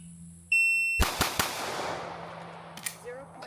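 Three pistol shots crack in very quick succession at a pink target on a shooting range, sharp and loud, preceded by a short electronic timer beep and followed by fading echoes.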